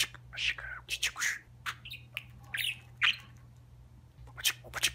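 A talking pet budgerigar squawks and chirps in repeated bursts close up, with soft whisper-like chatter between calls and a steady low hum underneath.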